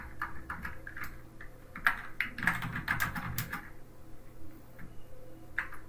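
Someone types on a computer keyboard up close. The quick, clicky key presses come in bursts, with a dense flurry in the middle, and a steady low hum sits underneath.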